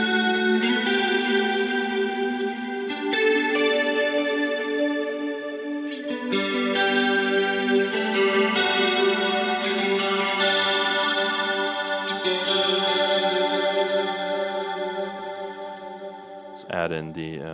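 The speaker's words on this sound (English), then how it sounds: "Let's hear a little bit of chorus." A Logic preset instrument played with a chorus effect, producing shimmering, layered sustained chords with a wavering, doubled texture. The sound is continuous and loud, and the chords change every few seconds.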